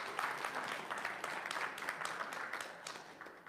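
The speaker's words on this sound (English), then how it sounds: "Let's give Max another round of applause" Audience applause for a performer named Max, steady dense clapping from a crowd that holds for several seconds at moderate distance before easing slightly.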